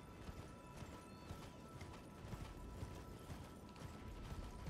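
Hooves of the spectral steed Torrent in the Elden Ring video game, a steady galloping clip-clop with faint mechanical creaks over a dense, continuous game soundscape.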